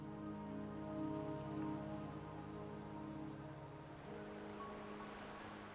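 Steady rain falls in the video game Wuthering Waves, a dense, even patter over a low droning musical bed that shifts partway through, continuous and fairly close with no voices.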